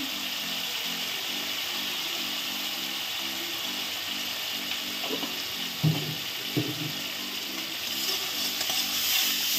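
Water hitting a hot pan of frying mustard paste for a fish curry makes a continuous hissing, bubbling wash, with a few louder spits and stirring knocks, swelling slightly near the end.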